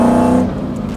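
A supercharged V8 in a drift truck revs loudly from inside the cab with the windows closed, holding a steady droning tone before it drops off within about a second.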